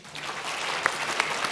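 Audience applause at a Quality Forum 2020 plenary presentation: a steady, dense wash of many hands clapping together, fairly loud and continuous, with a couple of sharper claps standing out near the end.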